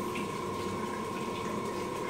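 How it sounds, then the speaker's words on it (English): Water rushes steadily through dry sprinkler system pipes after the valve opens, with a constant hiss and a faint hum, continuous and even, no voices. "You can hear the water running"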